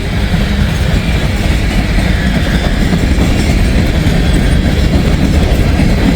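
Norfolk Southern freight train rolling past close by, a loud continuous rumble of wheels and cars with steady rattling clatter throughout.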